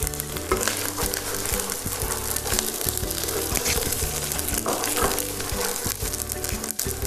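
Ginger garlic paste and finely chopped green chillies frying in a pan for dry tawa chicken, a dense continuous sizzle with stirring scrapes throughout, close and loud.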